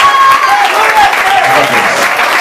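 Applause from a church congregation welcoming a visiting sister at a service in Alto Vera Cruz, Belo Horizonte, a dense wash of clapping heard under a voice speaking over it.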